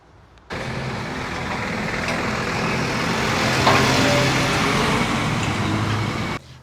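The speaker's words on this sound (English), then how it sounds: "Ooh, I am going to get run over by a car." A car passes on the road nearby, its steady traffic rumble swelling toward the middle and easing off again, with no talking.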